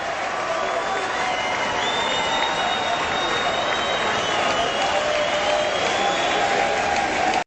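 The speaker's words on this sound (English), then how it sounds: "Crowd is getting excited here." Loud, sustained roar and cheering from a swimming-meet crowd before a men's 1500 metres final, a continuous excited wash of applause and voices that stays strong from start to finish.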